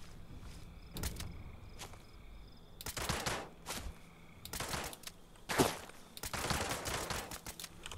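Enemy gunfire in Fallout 76 crackling in several separate bursts and volleys, some short and sharp, others longer rattling strings, moderately loud against a low game ambience with no talk.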